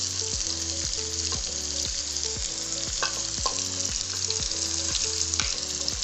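Pepper frying in a pot and being stirred, a continuous loud hissing sizzle with occasional soft scrapes of the spoon, close by and without speech.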